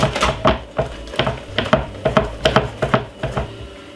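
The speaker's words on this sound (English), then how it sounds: "And we're gonna whisk it in." A whisk beats dark chocolate sponge cake batter in a bowl, clicking and knocking against the sides in quick, uneven strokes, close and fairly loud.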